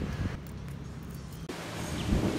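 Strong wind at a beach buffets the microphone in low rumbling gusts, with a steady rushing hiss and a brief drop midway before the blustery roar picks back up.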